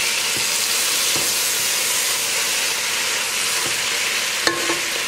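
Vegetable rice with green beans is stirred in a hot pan, a steady sizzle and hiss running throughout with a few soft scrapes and one sharp clink near the end, no talk.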